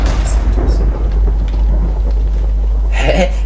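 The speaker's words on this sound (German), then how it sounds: "Es regnet nicht mal. Warum gewittert es, verstehe ich nicht." Thunder rumbles in a Minecraft world with no rain falling, a low, drawn-out roll that swells into a sharper crack near the end, with a bit of talking over it.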